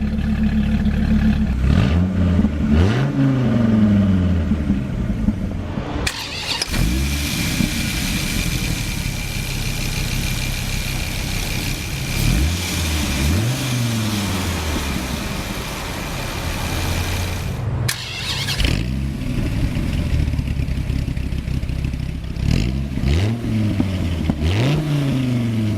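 A Dodge Viper engine starts and idles with a deep burble, then blips its throttle in several sharp revs that rise and fall, loud and close.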